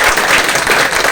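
A crowd applauds at the opening of Bhagalpur Wonder World, a dense, steady wash of clapping that holds at an even loudness for the whole second with no voices over it.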